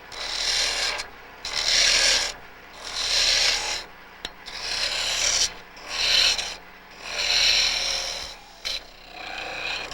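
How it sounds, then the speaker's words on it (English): A chisel cuts a cove into a spinning wooden workpiece on a Shopsmith Mark V lathe, making a rhythmic series of about six harsh, raspy scraping strokes with short gaps between them. "The cove starts by setting the depth with a parting tool. Then right back to this chisel."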